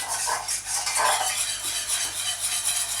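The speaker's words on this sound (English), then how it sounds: "what I'm going to do now is just whisk in a little of the milk at a time" A whisk beats steadily against a pan as milk is worked a little at a time into a cheese sauce for leeks, a busy, continuous scraping and clinking close by with no talk.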